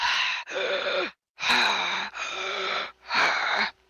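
A voice imitates heavy mouth breathing: loud, rasping breaths in and out, about four long pulls with brief pauses, close to the mic.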